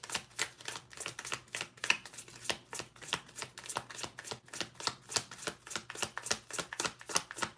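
Tarot cards being shuffled produce a rapid, even run of crisp riffling clicks and slaps, close and fairly loud, continuing steadily throughout without talk.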